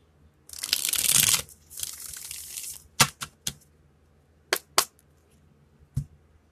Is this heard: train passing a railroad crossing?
no